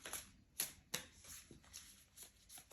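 Tarot cards shuffled by hand in a quiet room, a series of crisp riffling flicks with a few sharper snaps, fairly close and soft overall.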